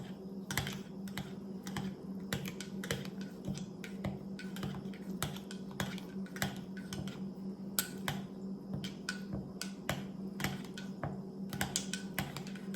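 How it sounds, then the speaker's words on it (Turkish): A spoon stirs onion peels, garlic peels and rice inside a mug, making rapid, steady dry clicks and taps that run continuously over a faint background hum. "Şimdi güzelce karıştırıyoruz."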